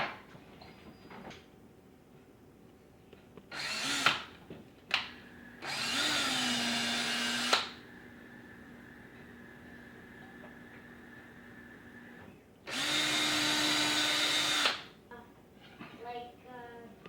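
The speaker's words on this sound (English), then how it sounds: "now we will drill some pilot holes" A power drill drilling pilot holes for a hinge on a soap mold whirs in three short bursts, its motor whine rising and holding steady, with quiet pauses between them.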